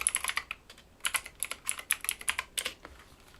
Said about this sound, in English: let's type in password.